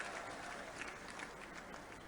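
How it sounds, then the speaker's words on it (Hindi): An outdoor public gathering in Gwalior breaks into steady, distant applause, a soft continuous patter of many hands clapping at low volume with no voices standing out. "अरे दिल से जोरदार ताली बजाओ"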